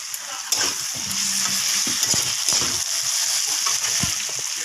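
Ground spice paste drops into a pan of frying fish head and sizzles, with a steady crackle, a few sharp stirring knocks and a soft slosh nearby.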